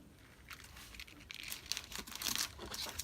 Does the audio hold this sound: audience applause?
no